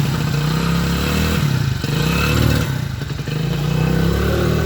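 A Hero HF Deluxe motorcycle engine runs loud and close with a steady, chugging idle, a brief dip and rise in revs midway, and no talking.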